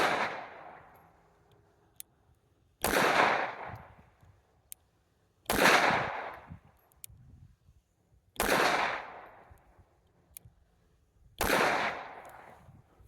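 Five sharp, loud shots from a S&W Bodyguard 2.0 .380 pistol, spaced about three seconds apart, each with a short echoing tail.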